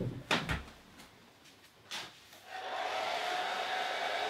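A hair dryer switches on to dry a line-and-wash watercolour painting of a winter scene, its steady blowing whoosh rising after a few soft clicks and bumps and then holding loud and continuous to the end.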